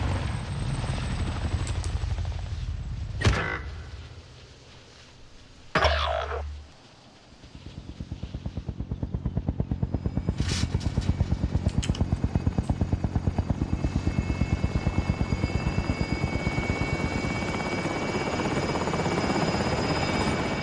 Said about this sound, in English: Helo coming in for deposit.